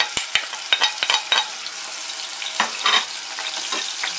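Onion and garlic fry in hot oil, a bright sizzle broken by sharp spatters and stirring clatters, close and steady, no talk.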